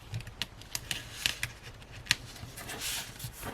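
Paper is folded down by hand for a planner pocket insert, giving a string of close, sharp crinkles and soft creasing taps with brief pauses between them.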